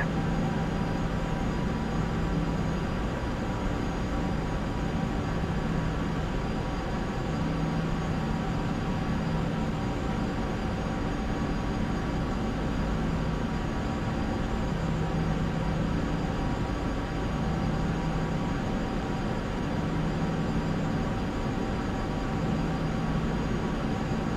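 A Boeing 737 taxis in Flight Simulator X, its jet engines giving a steady, unbroken hum and whine that stays even and moderately loud throughout, with no voices.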